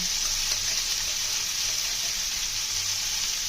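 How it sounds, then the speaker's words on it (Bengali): Fish roe frying slowly in a pan of oil gives a steady, even sizzle with no break or talk, close and moderately loud throughout. "তেলে ভেজে নেবো ডিমগুলো ধীরে ধীরে করে ভেজে নিচ্ছি সুন্দরভাবে"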